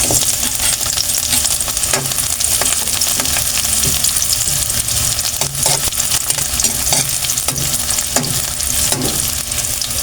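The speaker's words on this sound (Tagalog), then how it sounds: "Igisa po muna natin itong ating bawang sibuyas." Garlic and onion sauté in a hot pan for a liempo adobo, a steady loud sizzle with scraping stir strokes recurring throughout and no talking.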